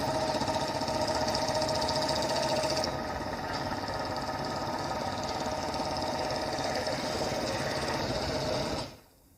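Engines of a column of Royal Enfield Bullet motorcycles rehearsing on Rajpath for the Republic Day parade with ITBP riders, a dense, steady, loud mechanical drone that runs without pause and cuts off sharply near the end.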